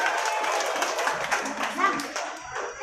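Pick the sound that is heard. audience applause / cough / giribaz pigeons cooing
audience applause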